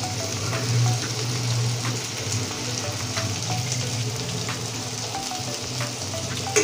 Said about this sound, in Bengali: দেখুন ফোড়নে আলুটা পড়ে গিয়েছে